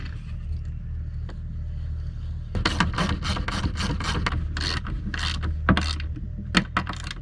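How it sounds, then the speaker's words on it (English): A 1/4 inch drive ratchet turns galvanized lag bolts on a wooden boat, giving a quick, close series of clicking strokes over a low steady engine-like hum. "I find I'm much less likely to snap them off if I use a 1/4 inch drive ratchet."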